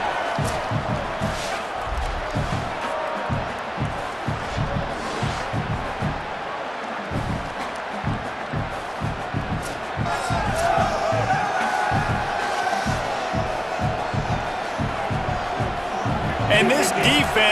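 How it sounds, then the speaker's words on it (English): A stadium crowd roars steadily at a Memphis versus NSU college football game, a dense, continuous cheer with someone talking over it throughout. "Back-to-back sacks, and the crowd is insane."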